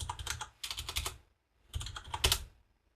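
Rapid keystrokes on a computer keyboard, two quick bursts of close, crisp clicking separated by a short pause.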